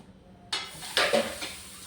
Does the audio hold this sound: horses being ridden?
no